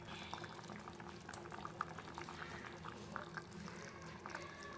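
Andhra-style egg pulusu, a spicy egg curry, simmering on a medium flame, with a soft, continuous bubbling and popping of thick liquid, heard close and fairly quiet.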